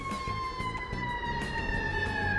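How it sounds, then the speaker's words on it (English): An ambulance siren passes outside, its steady wailing tone sliding gradually downward in pitch. It stays moderately loud and continuous over a rumbling, pulsing background. "and there go Ambulance."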